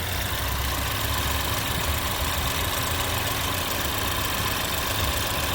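A 2011 Chevrolet Equinox engine idles steadily at close range after a throttle body cleaning, a continuous low rumble with an even hum and no voices throughout.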